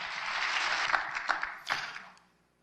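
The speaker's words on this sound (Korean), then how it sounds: "박수 한번 합시다." Audience applause at a lecture on Korean War history honoring elderly foreign veterans, a dense burst of many hands clapping that swells briefly, then tapers and fades to silence near the end.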